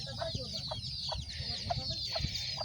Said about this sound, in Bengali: এই যে মুরগি, এটি